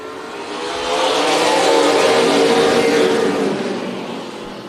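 NASCAR Weekly Series race cars at Tucson Speedway roar past in a pack, a broad engine rumble that swells to a peak mid-way and then fades as they pull away, loud and fairly close.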